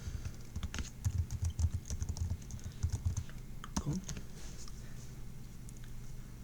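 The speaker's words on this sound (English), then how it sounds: "now we have to type the link. I'll just type the link facebook.com." A link is typed on a computer keyboard in a continuous run of quick, close key clicks for about three seconds, followed by a lone louder keystroke and then quiet room tone.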